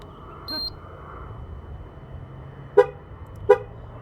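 Two short, sharp horn chirps from a 2008-2012 GMC Acadia about a second apart, confirming tire pressure sensor programming, standing out over a low idling hum and faint background noise.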